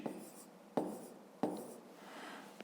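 Pen or pencil writing out a fifth-grade maths answer on paper, giving three brisk strokes in a quiet room, each a sharp scratch that trails off, close and fairly soft.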